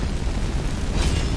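A fire spell blast in a fantasy video game roars as one dense, sustained whoosh that swells slightly toward the end, loud and close, with no talking.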